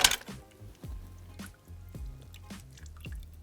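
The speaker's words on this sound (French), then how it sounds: "J'ajoute le jus d'un demi-citron." Half a lemon squeezed by hand into a pot of shallots and water, a few soft wet squelches and drips landing close by at low level, spread irregularly over a few seconds.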